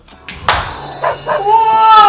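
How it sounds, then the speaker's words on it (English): A dog at home gives a few short yips and whimpery barks, close and loud, in quick bursts at a craft table. "look at it. That's my dog, Lino."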